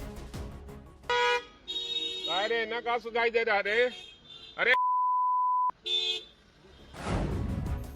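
A politician's speech at a rally is bleeped out: a flat one-second censor tone cuts across Hindi speech, with car horn honks and crowd shouting around it.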